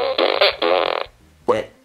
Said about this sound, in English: That is a fart machine.